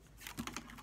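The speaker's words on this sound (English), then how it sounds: "these cards are hard to shuffle." Quick crisp riffling and soft clicks of tarot cards being shuffled close by, a short burst with no voices.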